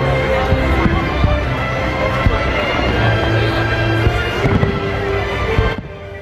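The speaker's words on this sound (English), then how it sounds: "You can hear the fireworks, but you can't see them" Dense, continuous rumble of Navy Pier fireworks exploding in the distance, hidden by low fog, a steady wash of low booms and crackle that fades away at the end.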